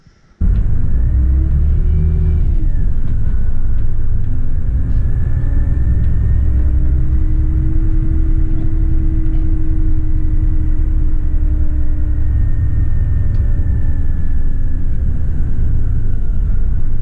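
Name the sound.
coach bus driving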